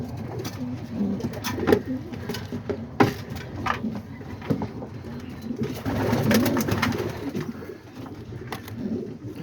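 Homing and roller pigeons coo softly and repeatedly nearby, with low throaty murmurs layered over light rustling and fluttering in the loft.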